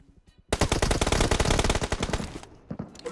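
Rapid automatic gunfire from a video game aimed at a door, a dense burst of close, loud shots fired alone for about two seconds, then trailing into a few scattered final shots.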